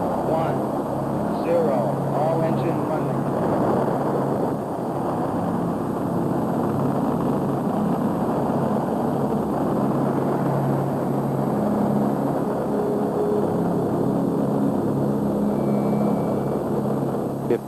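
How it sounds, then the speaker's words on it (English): Saturn V rocket engines roar at launch in a continuous, dense rumble that holds steady and loud throughout, with no voices over it. "1, 0. All engine running."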